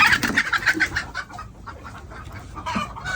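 Chickens on a Kerala poultry farm cluck in a quick run of close, repeated calls, then scattered softer clucks and a final squawk near the end.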